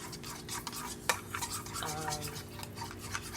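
A utensil stirs sauce in a bowl for crab cakes, giving close, continuous scraping and swishing strokes in an uneven rhythm, with one sharp clink partway through.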